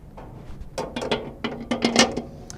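A dough hook being fitted onto a stand mixer, a few close metallic clicks and ratcheting clacks in an irregular burst, alone without talk.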